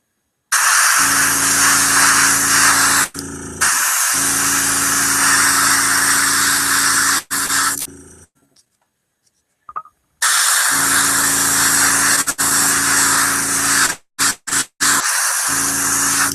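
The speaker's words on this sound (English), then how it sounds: "let's clear out this airbrush a little bit" Airbrush loaded with primer hisses in long steady bursts, loud and close, with a few brief cutoffs and a longer pause of near silence midway before spraying resumes.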